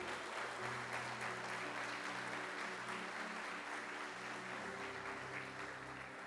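A congregation at a church service in Jaraguá do Sul applauds continuously, a dense wash of clapping held beneath sustained background music tones, fairly faint and even throughout.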